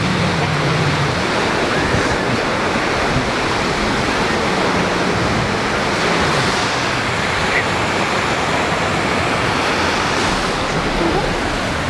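Sea waves wash onto a beach at Skegness on a hot summer day, a loud, continuous roar of surf heard close, with faint voices now and then.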